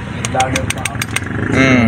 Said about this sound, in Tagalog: Yan ho yung maingay sa motor natin tropa.